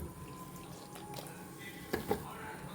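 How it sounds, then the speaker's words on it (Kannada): Water drips and squishes out of soaked soybean chunks as they are squeezed by hand, with two distinct wet splats standing out near the end over a low background hum. "ಎಲ್ಲ ನೀರು ಹೋಗಬೇಕು ಹೀಗೆ ಸ್ಕ್ವೀಸ್ ಮಾಡುವಾಗ"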